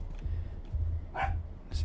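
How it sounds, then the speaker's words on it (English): A dog barks outside a few times, short muffled woofs at a distance while a person talks nearby over low background hum. "apologies for the barking. My daughter is playing with the dog outside"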